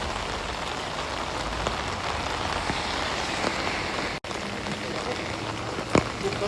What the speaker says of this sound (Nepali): ओकिनावामा चाहिँ यसरी पानी परिरहेको छ